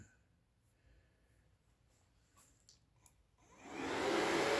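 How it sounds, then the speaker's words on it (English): An electric radiator fan motor on a KX450 dirt bike whirs up in the last second, a rising, loud steady rush after mostly quiet with faint handling noises and small clicks. "Fan motor getting it, son."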